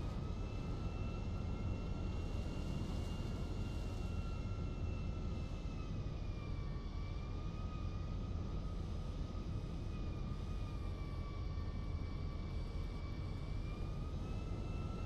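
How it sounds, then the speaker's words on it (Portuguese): A jet airplane engine in GTA V drones steadily and continuously at a low level, with a faint high tonal whine riding above the constant roar. "Vou ajeitar aqui o avião, né? Para o voo novamente."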